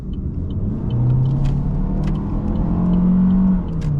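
A used Chevrolet Malibu taken quickly through a corner, heard from inside as a steady low road rumble with an engine drone that swells and rises in pitch, then eases off, with no talking.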